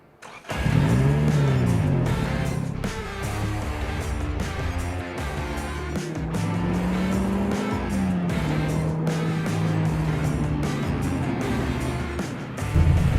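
A 2020 Toyota GR Yaris rally-bred hatchback accelerating hard on the road, its engine note rising and falling through gear changes, loud and close from inside the car.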